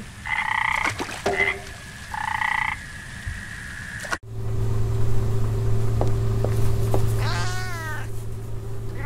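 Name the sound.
frog croaking in video game Memoranda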